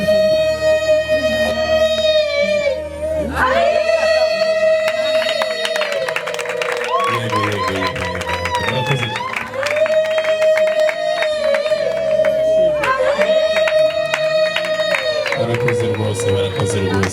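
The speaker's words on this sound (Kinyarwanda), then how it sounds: "twishimire dutange impundu reka dutange impundu" Crowd at a Rwandan traditional wedding ceremony ululating and cheering, loud sustained high trilling calls rising in repeated waves with shouts and clapping mixed in, continuous throughout.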